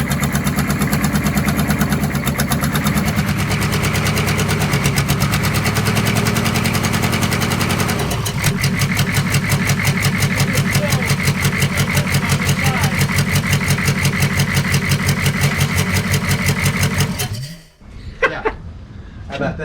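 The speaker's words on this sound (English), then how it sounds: "it's actually why the engine is running rough right now" A 6.5 diesel engine in a Squarebody truck idles roughly and loud up close, a steady uneven chugging that grows more distinctly pulsed midway before cutting off near the end, followed by brief quiet noises.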